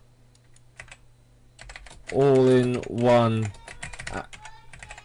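Fingers tap on a computer keyboard in quick bursts of clicks, close by, pausing while a person speaks briefly in the middle.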